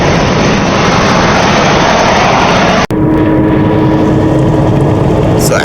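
A Cadillac DeVille rolling along on the road after a fuel pump replacement, giving a loud, steady broadband roar of engine and road noise that cuts abruptly partway through to a quieter hum.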